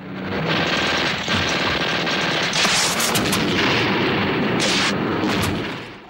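A van in a 1989 action movie is hit by a rocket launcher and explodes, with a loud, sustained roar of blast and debris plus sharp bursts of gunfire-like cracks, close and dense throughout.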